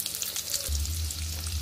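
Chopped onions fry in oil for a Telugu gongura meal-maker curry, a steady close sizzle with a low hum underneath, running continuously through the short moment.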